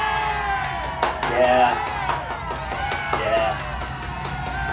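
Applause and cheering play as a sound effect: a lively crowd claps and shouts with sharp bursts of clapping over a constant crowd murmur, and a voice briefly calls out.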